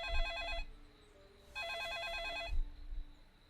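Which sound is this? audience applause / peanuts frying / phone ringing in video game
phone ringing in video game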